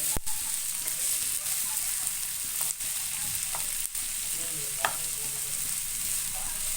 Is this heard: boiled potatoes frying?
yes